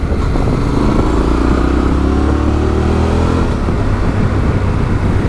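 Yamaha Ténéré 700 motorcycle climbing a winding mountain road from Chur to Arosa, a loud steady engine drone with shifting pitch as revs rise, heavy wind rush over it and no talk.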